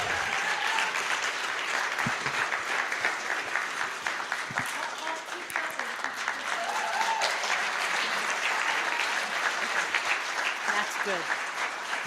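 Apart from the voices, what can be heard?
audience clapping for storyteller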